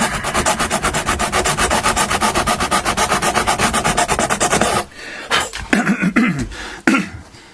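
A file bevels the fret ends on an Electra guitar during a refret, with fast, even rasping strokes repeating close up for several seconds before a few slower, scattered scrapes.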